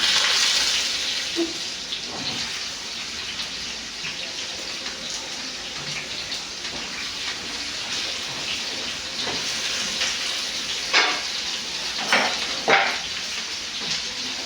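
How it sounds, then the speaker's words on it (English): Potatoes sizzle in hot oil, a bright steady hiss running throughout at moderate loudness, with a few utensil clinks and knocks toward the end. "So you can see our oil has heated up. So we are going to put our potatoes inside."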